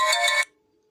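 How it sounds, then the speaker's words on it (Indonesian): A phone ringtone sounds a single short electronic chime, bright and close, then cuts off abruptly into near silence. "maaf ada telepon masuk."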